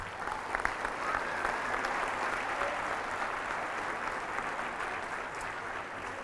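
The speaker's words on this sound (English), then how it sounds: "We give everybody a round of applause." Steady crowd applause fills a gym at a girls' basketball charity game, a dense, even wash of clapping that carries on throughout at a moderate distance.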